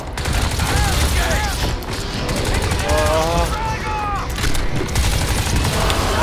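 Heavy automatic gunfire is aimed at an alien in the video game Crysis 2, a continuous loud barrage mixed with booms and mechanical game sounds, while voices call out over it.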